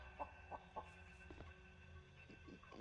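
A chicken in the video game Cube Life gives several short, faint clucks in a quick irregular series over a low background hum.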